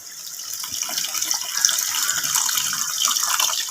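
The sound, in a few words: dissolved tamarind water poured into kuzhambu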